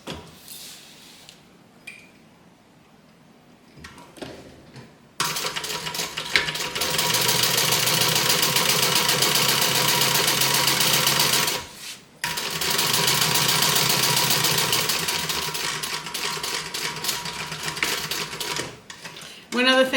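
A sewing machine stitching a bag seam on a Lola by Swoon bag runs close and loud in two long steady bursts with a short pause between them. Quieter handling noises come before it starts.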